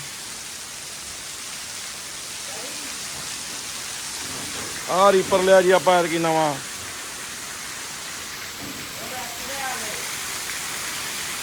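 Heavy rain pours steadily over a farm where a trolley loaded with harvested maize stands, a continuous broadband hiss throughout, with brief speech from a man in the middle.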